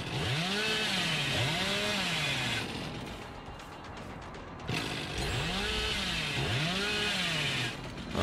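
The Hillbilly's chainsaw in Dead by Daylight revs in loud rising and falling bursts, two sweeping revs, a quieter pause of rumbling, then two more revs.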